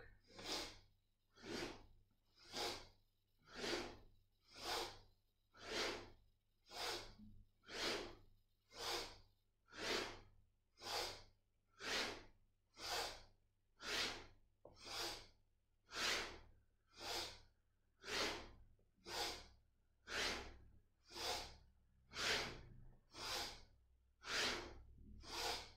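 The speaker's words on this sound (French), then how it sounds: "Vous allez inspirer dans la posture, c'est la respiration puissante" Powerful, dynamic Kundalini yoga breathing, a steady train of about twenty-two forceful breaths through the nose, evenly paced roughly one per second and close to the microphone, with no talk over it.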